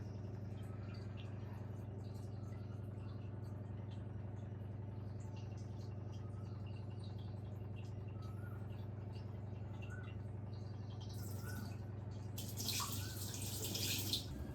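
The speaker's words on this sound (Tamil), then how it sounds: "ஊற்றிட்டு மறுபடியும் நல்லா க்ளீன் பண்ணிட்டு" Tap water runs steadily and close by while goat blood is rinsed clean during cooking prep, a constant low wash with a brief brighter splash near the end and no talk.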